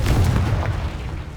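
A Confringo blasting spell explodes in the game Hogwarts Legacy, a heavy, low, rumbling boom that fills the short moment with sustained roaring energy, loud and close.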